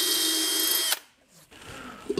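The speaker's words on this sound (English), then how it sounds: "I'm just drilling out these spot welds here on the inside." Power drill boring out spot welds on the inside of a 1939 Hudson truck panel, a loud steady whine for about a second that stops abruptly, followed by quieter shop noise and faint handling sounds.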